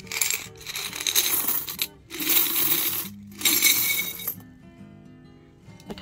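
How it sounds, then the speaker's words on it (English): Handfuls of metal coins are dropped and counted, bursts of bright clinking and jingling pouring onto a pile in three close runs separated by short pauses, then settling into quiet, with no talking. "so we have all these coins that we've got to go through"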